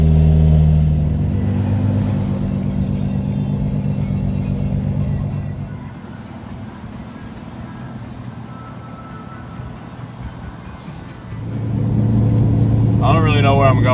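Nissan 350Z on E85 fuel driving along, a steady low engine drone and road rumble that drops quieter through the middle and swells back up, with someone talking over it at the start and end.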